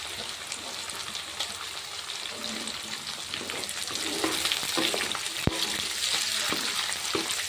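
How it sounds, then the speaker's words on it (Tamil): Onions sautéing with green chillies in a pan over medium heat for a Manchurian gravy, a steady crackling sizzle broken by spatula stirs and one sharp clink, close and without voices. "ஒரு நிமிஷம் தான் ஒரு மிதமான தீயில் வதக்கிக்குங்க"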